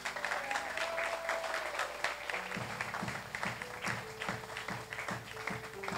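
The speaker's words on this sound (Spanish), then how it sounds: "¿Puede darle unas palmas a Cristo," A church congregation claps together in a steady, dense burst of applause for Christ during a service in El Salvador, with a faint tone held underneath.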